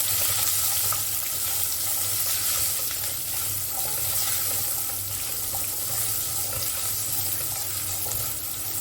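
Whole shallots sautéing in a pan with asafoetida for a Kerala-style meal, a steady, loud, hissing sizzle that continues without pause and without talk.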